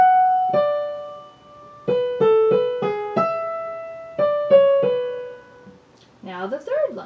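Keyboard playing the second line of Bach's Marche in a lesson, with clear, detached notes in a moderate rhythm and a few held tones, close and moderately loud, followed by brief talking at the end.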